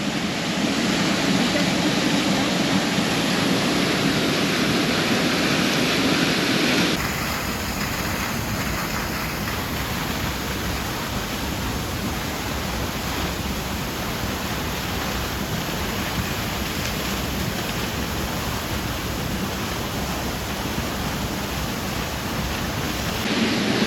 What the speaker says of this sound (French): Allez, au revoir, jolie cascade.